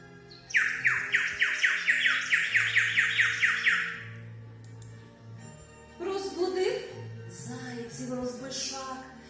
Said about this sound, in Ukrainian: Заспівав веселий шпак голосно ось так.